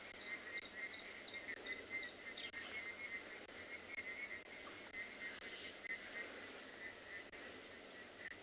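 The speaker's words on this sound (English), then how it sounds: "Can you hear the frogs? They've started already." Frogs and insects calling at dusk on a South African safari, a steady layered chorus of high trilling and chirping with a brief sharper call near the middle, moderately distant and continuous with no talk.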